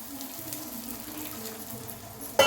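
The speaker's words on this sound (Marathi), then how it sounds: "हा 1 बाऊल मी पाणी घालते" Water is poured into a pot of soaking rice for a chickpea-patty biryani, a soft, continuous trickling splash heard close and fairly quiet, with a brief louder knock at the very end.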